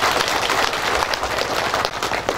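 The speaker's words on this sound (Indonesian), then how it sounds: "Tepuk tangan buat Pak Adipati lagi." Dense, loud applause fills a hall at a thanksgiving gathering for a volunteer team, many hands clapping steadily without a break.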